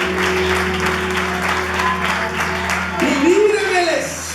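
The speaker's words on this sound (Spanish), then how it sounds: "Denle un aplauso fuerte" A church congregation applauds, a sustained wash of many hands clapping beneath a preacher's raised voice and music, swelling louder toward the end.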